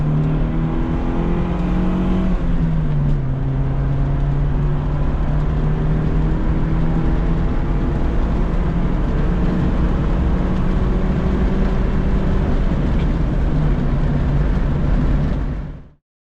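A 1995 Geo Tracker accelerating hard, engine note climbing through gears with a shift near the start, loud and continuous from inside, then cutting off abruptly at the end.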